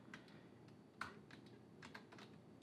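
Code being typed on a computer keyboard: quiet, irregular clusters of key clicks with short pauses between bursts, close-up and without voices.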